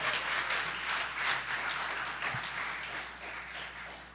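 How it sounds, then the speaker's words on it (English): An audience at a college flex day event claps steadily for about four seconds, a dense wash of applause heard from within the room that slowly fades toward the end. "give her a round of applause"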